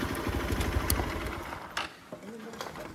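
A vehicle engine laboring on a rough off-road track in the Valparai hills, with a rapid low chugging that is strong at first and then fades. Voices talk over it.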